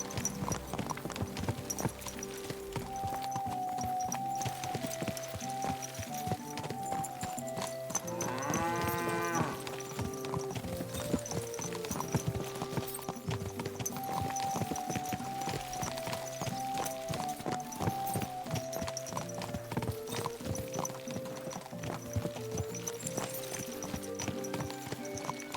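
Horse hooves clip-clopping steadily in the medieval world of Kingdom Come Deliverance 2, a continuous rhythmic trot set against a music bed, with a brief whinny-like sweep midway.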